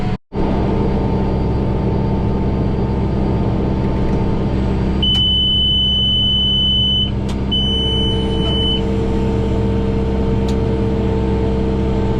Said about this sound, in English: I hate that daggum alarm